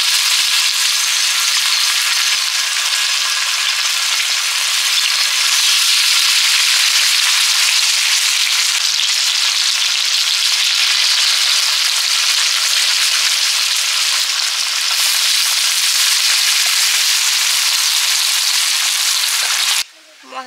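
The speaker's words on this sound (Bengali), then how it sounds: "বড় তাওয়াতে মাছগুলো ভেজে নিচ্ছি।" Fish frying on a large tawa with green chillies added, a loud, steady, dense sizzle crackling without a break for about twenty seconds before cutting off abruptly near the end.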